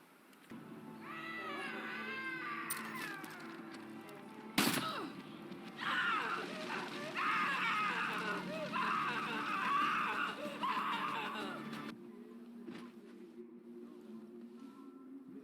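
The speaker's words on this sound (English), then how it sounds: "You can hear them make inaudible mumbles and noises and will scream when they see you" White-clad bliss cultist Angels in Far Cry 5 giving low, unintelligible mumbles and moans, with a sharp loud burst partway through, then continued murmuring and noises over a quiet ambient hum.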